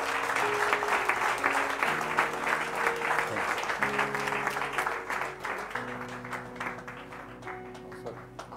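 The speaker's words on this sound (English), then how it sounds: "Give the Lord and clap" A church congregation claps steadily and warmly, with organ-like sustained tones and murmuring voices underneath, gradually fading toward the end.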